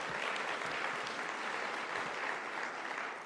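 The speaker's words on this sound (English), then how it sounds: "let's clap for the Attorney General" An audience at an Empire Club of Canada event in Toronto claps for the Attorney General, a steady, even round of applause that stays level for the whole stretch with no voices over it.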